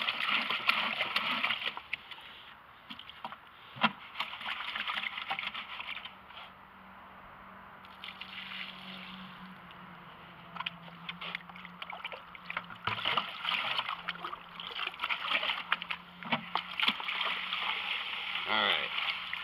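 Water swirled in a 12- or 13-inch gold pan to rinse out cloudy silt while panning fine gold, a steady sloshing trickle with intermittent clinks and splashes, close up, with a voice speaking at times.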